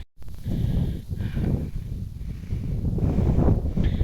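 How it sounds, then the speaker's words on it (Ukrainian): Strong gusting wind on a hilltop buffeting the microphone with deep rumbling roars that swell and ease, loud and close, with no speech. "Ох, який вітер тут на горбі."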